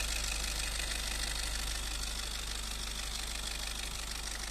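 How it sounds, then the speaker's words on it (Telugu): A 2020 Maruti Ertiga ZDI+ diesel engine idles with a steady, even low rumble and a light knocking clatter, heard up close and without any talking. "వెహికల్ సౌండ్ మాత్రం స్మూత్ ఉందండి."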